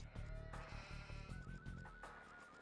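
Sheep bleat in an Age of Empires-style strategy game, several short wavering calls close together over a low game backdrop, with no voices.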